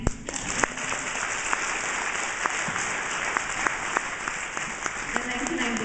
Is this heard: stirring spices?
no